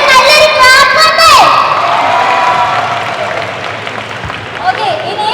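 A crowd at a film promotion event for Sarkeet with Asif Ali claps, cheers and shouts loudly and close, with whoops and excited voices that fade to a lower, steady crowd murmur.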